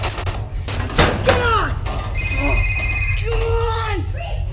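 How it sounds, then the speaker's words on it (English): A telephone rings from inside a locker, a steady electronic tone lasting about a second amid loud, rumbling background noise, with urgent voices talking before and after. "Wait, it's my phone."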